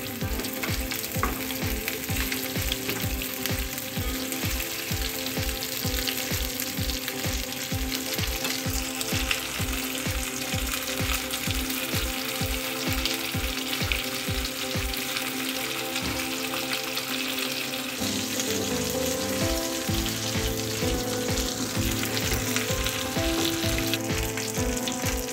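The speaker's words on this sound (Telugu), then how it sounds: "గోల్డెన్ కలర్ వచ్చేంత వరకు ఫ్రై చేసుకోవాలి." Fish pieces fry in hot oil until golden, giving a steady, dense sizzle with a faint rhythmic bubbling pulse, close and continuous with no voices.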